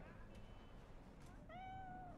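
A cat in Cyberpunk gives a single clear meow near the end, following a brief quieter mew, over a low steady ambient hum.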